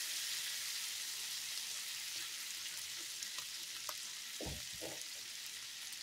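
Green beans and potatoes sizzling in a cast iron skillet for a Thanksgiving meal, a soft steady hiss with scattered pops and a few low clunks of the pan near the end, fairly faint.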